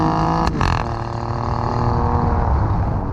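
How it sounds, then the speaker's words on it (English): Alfa Romeo Giulia Quadrifoglio (2017) engine breathing through its dual-mode quad-tip exhaust, a steady close, loud drone with a brief sharp burst near the start, no talk. "A dual-mode exhaust system allows this engine to make operatic music trumpeted from quad exhaust tips"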